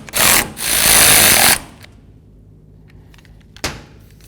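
A power driver runs in two bursts, a short one and then a longer whir, tightening wiper motor mounting screws on a 2002-2008 Dodge RAM 1500 wiper transmission, followed by quiet with a sharp click near the end.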